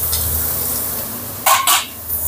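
Tomatoes sautéing in a pan right after garlic for pechay with pork, a soft steady sizzle with a couple of sharp scraping stirs near the end.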